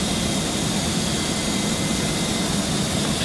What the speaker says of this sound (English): Request pushback and engine start.